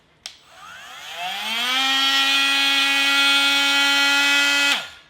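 An oscillating multi-tool with a blade fitted starts with a click and spins up to a loud, steady, high-pitched whine, holding for about three seconds before cutting off and winding down.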